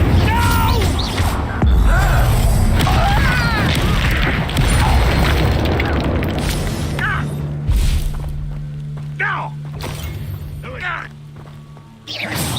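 Fire spells are cast during a Hogwarts Legacy battle, with booming, crackling blasts and thuds layered under a character's voice and game effects, the bursts coming in loud clusters and then trailing off toward the end.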